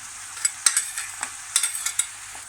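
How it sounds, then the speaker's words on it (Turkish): Onion frying in melted margarine in a pan while making stuffed kibbeh, with a steady close sizzle and a few scraping stirs of the spoon, and no talking. "Evet margarin eridi bir tane soğanı ekliyorum."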